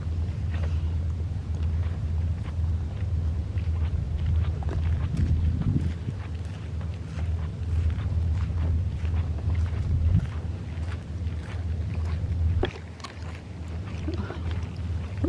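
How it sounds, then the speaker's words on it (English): A small motorized kayak hums across the water as a low, continuous engine rumble, heard outdoors amid gusty wind buffeting the microphone and scattered nearby knocks. "kayak with a motor. A motor down there."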